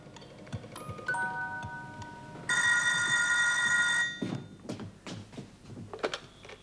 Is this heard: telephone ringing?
yes